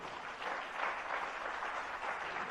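An audience claps steadily and loudly throughout, a dense continuous wash of many hands at a religious class gathering, with no talking over it.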